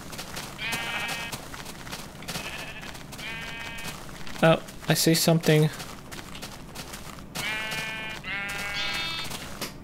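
Sheep bleat in the Minecraft video game: several short, nasal bleats come in bursts, close and clear, while a player talks over the game sounds.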